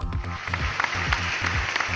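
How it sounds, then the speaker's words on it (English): An audience at a panel discussion on mobility claps for a panelist, a dense, continuous round of applause with a low rhythmic music bed underneath. "Round of applause for him."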